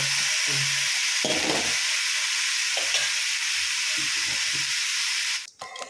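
Tomatoes sizzle and fry loudly in a pan for a cauliflower curry, a steady bright hiss that runs without a break and then drops away at the very end.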